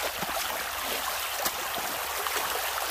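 A stream in a tributary of the South Han River flows over stones with a constant broadband rush and splash, close and unbroken, with no talk.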